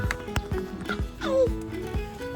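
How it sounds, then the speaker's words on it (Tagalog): A horse with clip-clop hoof beats and a brief whinny-like call, heard near amid outdoor background noise, with a voice faintly present. "Ayun, kabayo."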